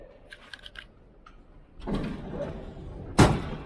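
A door swinging shut on a Philadelphia street, heard as a sharp, fairly loud thud near the end, preceded by a rising wash of outdoor traffic and wind noise.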